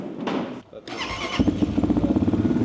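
A Geon motorcycle with a carburetor starts up close by: a short cranking burst, a brief pause, then the engine catches and settles into a quick, even idle pulse.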